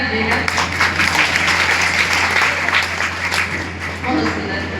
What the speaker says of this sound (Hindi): तो एक बार तालियां बजा दीजिएगा।